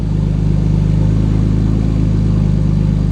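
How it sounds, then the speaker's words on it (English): A BMW E60 engine idles right after a software flash, giving a steady, loud, even hum recorded close up with no talking. "Yep, idling smooth."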